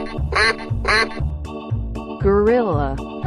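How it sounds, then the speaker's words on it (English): A cartoon duck in a kids' long-slide animal game gives a couple of bright, nasal quacks, followed by further warbling calls over a bouncy backing track. "Duck."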